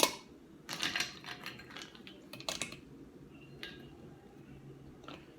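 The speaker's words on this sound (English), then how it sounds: "put the lid on, and then just put a couple ice cubes on top here" Ice cubes clink and knock against a glass jar lid in a few faint, quick taps and rattles, close by, with a brief louder cluster near the start and no talk.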